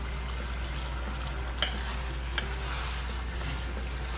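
Cubed tomatoes for a chicken curry fry in a hot pan with a steady close sizzle, over a low constant hum, with a couple of faint utensil clicks.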